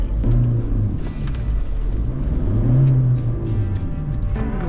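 An off-road vehicle bogged down with its wheels spinning hard, a steady close engine drone and rumble that rises and falls as the wheels churn, with no clear talk.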